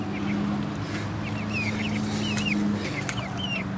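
Four hens in a coop cluck and warble in quick chirpy calls over a steady low hum, the birds fairly close and busy throughout.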